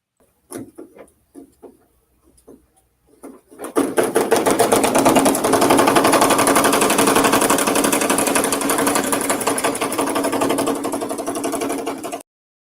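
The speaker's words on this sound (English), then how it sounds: "let's listen to what it sounds like when you stitch" An embroidery machine drives its needle through wood, a loud, continuous rapid mechanical stitching rattle that starts abruptly after a few faint knocks and runs steadily until it stops.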